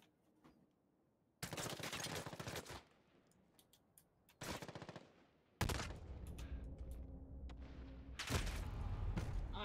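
Video game gunfire in bursts: several loud, sharp volleys of rapid shots separated by brief pauses, the later bursts heavier and more sustained, with no talk over them.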